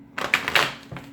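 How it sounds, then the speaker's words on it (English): Tarot cards being shuffled by hand, a brief burst of papery riffling and soft taps lasting about a second, close and fairly loud. "one more shuffle."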